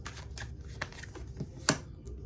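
Tarot advice cards are shuffled by hand in a short sequence of papery riffles and slaps, ending in a sharper snap, close and fairly loud with no talking.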